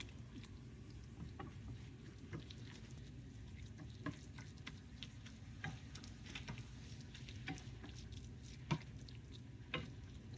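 Half and half being stirred into a crab stuffing mixture in a pan, with a soft, steady low rumble and faint scraping clicks from the spoon at irregular intervals throughout.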